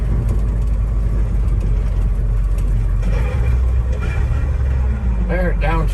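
A restored 1972 Ford dump truck rumbles loud and steady from inside the cab on an I-5 freeway ramp, its heavy engine drone shifting as it downshifts, while someone talks over it.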